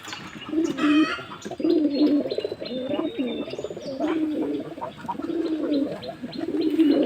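Pigeons coo steadily in a pigeon loft at a cloudy dawn before rain, with repeated low throaty calls in overlapping phrases and a few brighter chirps mixed in, close and continuous throughout.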